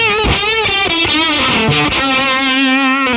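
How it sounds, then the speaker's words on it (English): A thick, buzzy synthesized bass tone from a TWA DM-02 Dynamorph harmonic generator pedal set to full synth effect, with rich stacked harmonics, gliding between notes in a loud, sustained, distorted line. "Or just have all synth effect."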